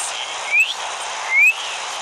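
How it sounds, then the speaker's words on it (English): Two short, rising whistled notes, each a quick upward glide, spaced under a second apart against a quiet background. "I just felt like whistling."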